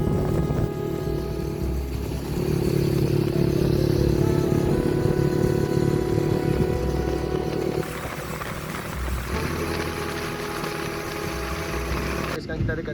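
A Yamaha Y15 motorcycle is ridden on the road to Penang, giving a steady, close engine drone with wind rush throughout. Voices speak over the engine.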